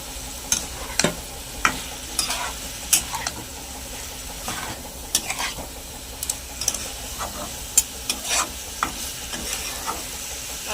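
Potatoes and chicken for kabab biryani stir-fried in a pan, with repeated scraping and clattering stirring strokes over a steady sizzle, close and moderately loud, no talking.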